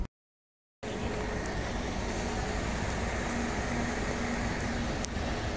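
A Scania K410 bus with a Euro 5 engine and a new gearbox runs with a steady, droning low mechanical hum that starts after a brief moment of silence.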